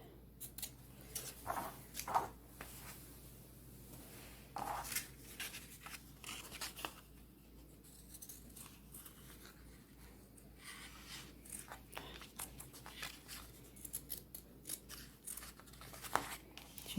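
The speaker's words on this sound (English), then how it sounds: "See how nicely these scissors cut, because they're nice and sharp." Sharp sewing scissors cut through fabric for a festive corn decoration, a quiet series of crisp snips and slicing strokes at an irregular rhythm, close and distinct against a low, quiet background.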